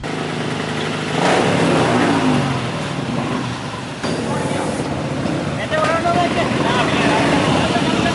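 Motorcycle engines rev in a bike rally held as a procession announcing a school arts festival, a steady loud roar of several engines with surges, blended with crowd noise throughout.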